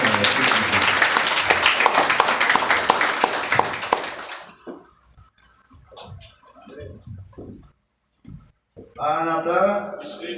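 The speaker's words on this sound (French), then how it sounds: "Nous vous demandons d'applaudir chaudement le Saint-Esprit" A church congregation at a Sunday service claps loudly and densely for several seconds; the applause then stops abruptly and someone speaks over a quieter room.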